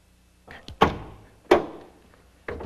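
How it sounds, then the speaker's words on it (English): The power door locks on a 1989 Buick actuate by remote keyless entry, three sharp mechanical thunks spaced about a second apart, close and alone. "when the unlock switch is pressed once, the driver's door unlocks"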